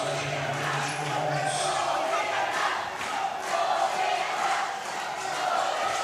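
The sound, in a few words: basketball crowd cheering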